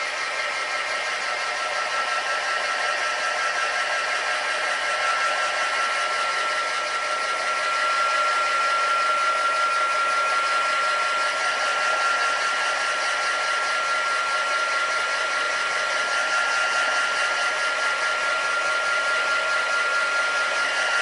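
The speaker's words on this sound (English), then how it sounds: "So I'm just going to give that a quick blast with my heat gun to dry it off quickly." A Dovecraft crafter's heat gun blows steadily to dry craft work, a constant close whirring hiss with a faint whine, alone throughout.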